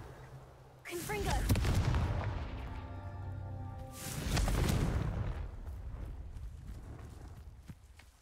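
Confringo fire spell in the video game Hogwarts Legacy, two loud booming blasts about three seconds apart, each with a long crackling roar that slowly fades.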